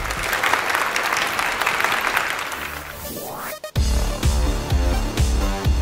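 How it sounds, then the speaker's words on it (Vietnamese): A studio audience at a comedy game show applauds loudly for a few seconds, and the clapping fades into a brief musical sting with rhythmic hits. "Vỗ tay cho anh lên."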